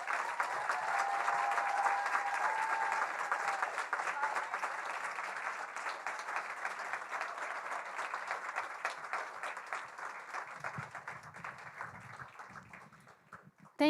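Audience applause for a political panel's speakers, a dense sustained clapping from a crowd that stays loud for several seconds and then gradually thins and fades toward the end.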